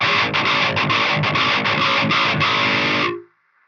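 A heavily distorted electric guitar through a Fortin Natas preamp pedal with the grind turned up fully chugs in rapid, even strums, thick and loud, then stops abruptly, leaving a faint hiss.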